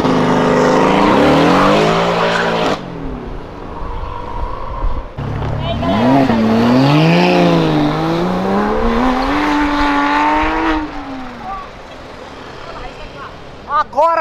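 Cars leaving a car meet in Brazil, engines revving hard and rising in pitch as they pull away, with tire squeal, loud and close, while people talk and shout over the noise.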